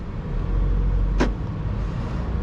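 A Volvo S90 car pulls off from rest, a low steady engine and road rumble inside the cabin with a brief soft whoosh partway through, no talking.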